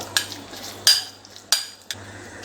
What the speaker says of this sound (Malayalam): നല്ലപോലെ മിക്സ് ചെയ്ത് കൊടുക്കുക